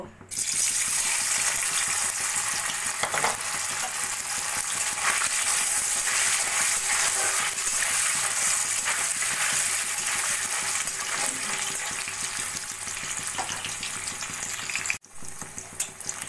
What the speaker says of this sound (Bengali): আমি ডালে পনির দেবো, সেই জন্য পনিরটা প্রথমে আমি একটু ভেজে নেব